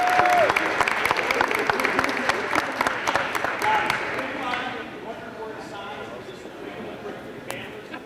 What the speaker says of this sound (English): How about one more big round of applause for all involved?